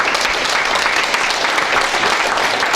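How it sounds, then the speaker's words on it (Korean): A hotel banquet audience at an anniversary ceremony gives a loud, sustained round of welcoming applause, dense and even throughout. "박수로 환영해 주시면 고맙겠습니다."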